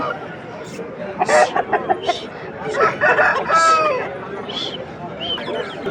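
A rooster crows amid the busy din of a Vijayawada chicken market, with other fowl clucking and people chattering loudly throughout.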